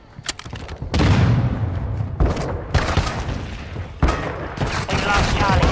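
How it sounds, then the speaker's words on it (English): Shotgun blasts in the video game Call of Duty Modern Warfare II come as several loud, sharp bursts over dense combat noise, with players talking over the action. "Everyone's using that freaking shotgun."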